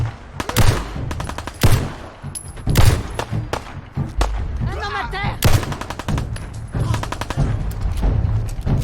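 Rapid gunfire from a Beretta pistol in the video game Fallout 4, with repeated loud sharp shots in quick bursts and volleys close up and near-constant throughout, plus some brief game sounds between.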